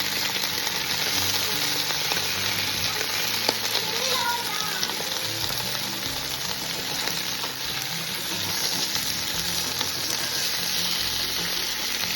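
Steady, dense sizzling of golden pompano fish frying in organic coconut oil, continuous and close, with faint occasional clinks in the background.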